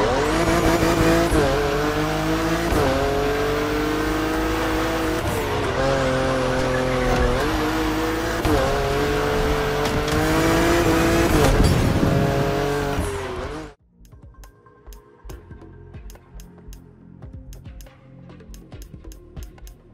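Race cars in The Crew Motorfest video game roar loudly and close, with revving engines, shifting pitch and squealing, skidding tires, before the sound cuts abruptly to faint scattered clicks.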